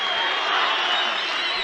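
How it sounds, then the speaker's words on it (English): A large live crowd at an MMA event roars and cheers continuously, a dense, loud wash of voices that holds steady throughout without breaks. "now the crowd find their voices. Oh, and what a noise that is"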